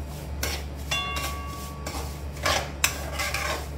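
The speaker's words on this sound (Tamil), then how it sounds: "நல்லா வறுக்கணும் ரவையை." Semolina roasting in a pan while a spoon scrapes and stirs it, with repeated close scraping strokes and metallic clinks against the pan and a faint hum underneath.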